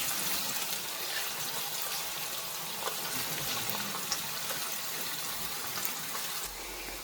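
Seafood fries with onion, garlic and a spoonful of tomato paste for paella, giving off a steady loud hiss and sizzle with a few small pops.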